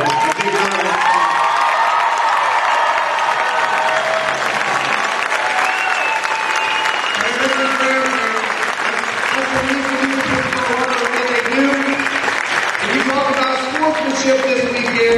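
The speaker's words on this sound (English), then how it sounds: "I want everyone in this gym to give these people in this front row a big round of applause" Loud, sustained applause and cheering fill a school gym at a Class 1A state championship celebration, with scattered whoops and children's shouts layered over dense clapping and voices throughout.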